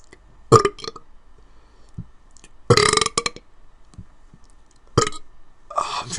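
Dry burps forced up from swallowed air come in several loud, close bursts, a couple drawn out and rough, separated by quiet pauses with small clicks.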